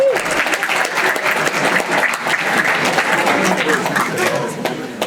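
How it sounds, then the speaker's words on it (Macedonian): An improv theatre audience at a live show in M. Kamenica bursts into steady, loud applause, dense clapping filling the room for several seconds with a little crowd chatter mixed in. "Aplauz, bravo."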